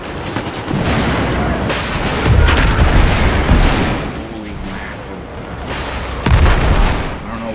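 Battlefield 4 Conquest combat on Xbox One: dense, loud, continuous gunfire and rattling automatic bursts mixed with repeated booming grenade explosions, with chaotic battlefield noise throughout.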